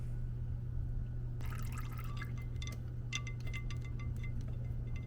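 Liquid drips from the open oil pan drain of a Clark all-terrain forklift that has sat for years, with condensation in the pan; a quick run of close, bright drips and splashes falls over a steady low hum.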